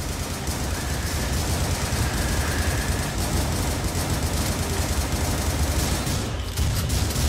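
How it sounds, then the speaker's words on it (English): Assault rifle fire in The Butcher, a dense, unbroken barrage of gunshots that stays loud and steady throughout, with a brief dip near the end before resuming. "Assault rifle."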